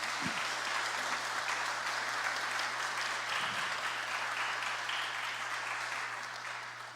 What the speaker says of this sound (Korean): 우선 축하의 박수 한번 보내드리는 게 좋을 것 같습니다